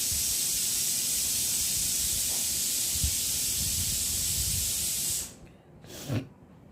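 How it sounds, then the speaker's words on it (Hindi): A pressure cooker whistle on a home kitchen stove lets off a loud, continuous steam hiss for several seconds, then cuts off abruptly, followed by a brief softer puff. "मेरे कुकर में सीटी आ रही हैं"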